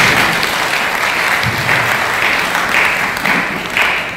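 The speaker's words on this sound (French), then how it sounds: "Acclamez quand même pour moi." An audience at a talk breaks into sustained applause, with dense clapping from many hands that stays loud and even throughout and fades slightly toward the end.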